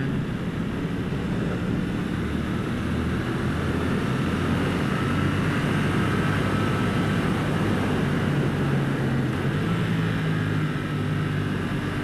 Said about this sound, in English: Nice bit of engine braking there, just coming down into second, just popping up those revs